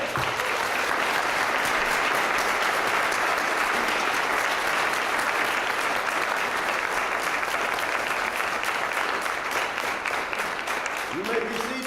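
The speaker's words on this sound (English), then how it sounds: "Let's give them another round of applause." A crowd at a veterans salute event gives sustained, even applause, dense and steady clapping filling the whole stretch with a faint voice near the end.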